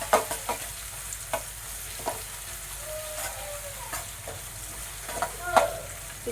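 Ivy gourd (tondli) frying in a pan for palya gives a soft, steady sizzle, broken by repeated scraping stirs and light clinks of a spatula at close range.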